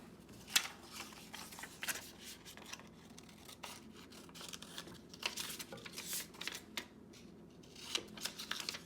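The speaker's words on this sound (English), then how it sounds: "let's take our scissors and cut off the bottom here." Scissors cut through a paper packet, a quiet, close series of crisp snips and slicing rasps at an uneven pace, with faint paper rustling in between and no voices.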